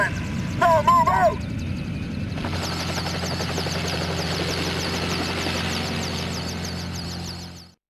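A helicopter's rotor thuds and engine drone in a Resident Evil Survivor scene, starting loud and steady after brief voices and chirpy effects, then cutting off at the end.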